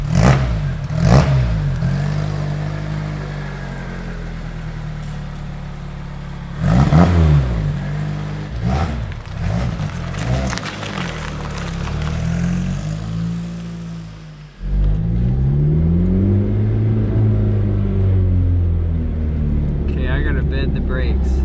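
A Lotus Exige fitted with an Inokinetic exhaust revs in repeated loud bursts, its engine note rising and falling close by, with people talking over it between pulls.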